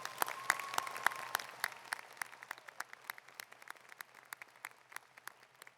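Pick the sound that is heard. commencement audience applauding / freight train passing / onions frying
commencement audience applauding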